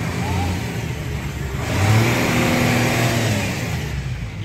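A Suzuki Wagon R car engine runs, then revs up midway to a louder, sustained roar before easing back slightly, heard up close with some faint talk nearby.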